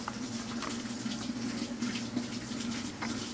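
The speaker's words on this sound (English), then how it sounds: "You can hear the water going in." Water from a garden hose pours steadily into an outdoor washing machine, a close, continuous rushing stream over a low steady hum with no voices.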